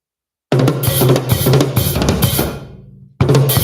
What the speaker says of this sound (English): You play Hertzes with a hi-hat choke.